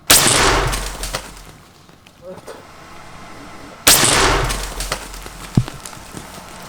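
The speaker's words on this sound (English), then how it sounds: "Let me blow this watermelon up first though." A homemade shockwave cannon fires point blank at a watermelon, producing two loud, sharp booming blasts a few seconds apart, each followed by a rushing decay.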